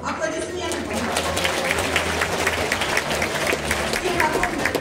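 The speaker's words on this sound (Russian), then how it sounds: "Аплодисменты, пожалуйста." Applause from an audience at a primary school farewell ceremony in Anadyr, a dense continuous patter of clapping with voices mixed in throughout.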